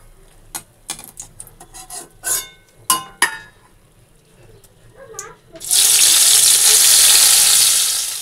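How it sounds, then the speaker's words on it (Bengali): Sliced eggplant hits hot oil in a wok: a few clattering kitchen knocks and scrapes come first, then a sudden loud, dense sizzle bursts up and holds steady until the end. "এই তেলের মধ্যে বেগুন ভেজে নেব"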